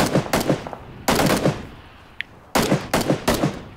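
Gunfire in the video game PUBG: loud, close bursts of rapid automatic shots in three clusters separated by short pauses, with a faint click between them.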